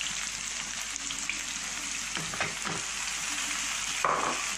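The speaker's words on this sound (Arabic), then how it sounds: "هذيك البصله مع ديك الزيت يتقلاو ليا مزيان" Onion fries in oil in a pan with a steady sizzle and crackle, with a few soft stirring scrapes and a brief clink near the end, no voices.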